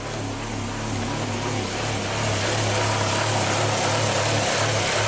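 A 1997 Kia Sportage 4x4 with a 2-liter engine idling high with a surge, a steady droning hum with a low rumbling tone, close and constant, with no one talking.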